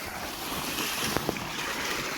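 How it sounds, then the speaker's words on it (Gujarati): Cold water runs steadily into farm water tanks outdoors, a continuous broadband rush with wind noise and two brief knocks near the middle. "અત્યારે ટાઢું પાણી ચાલુ જ છે"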